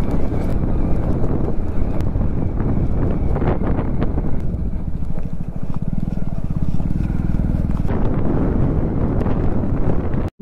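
A 100cc motorcycle ridden on a mountain road in Ladakh and Spiti, with a steady engine drone and heavy buffeting wind noise across the microphone, loud and continuous from start to finish.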